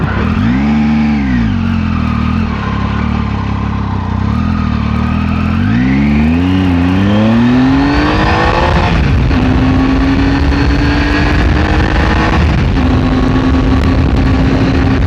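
A 2019 Triumph Tiger 800 XCA motorcycle engine, switched into off-road mode, rises and falls in pitch while revving through a slow U-turn, then settles into a steady, loud drone close by with no talking.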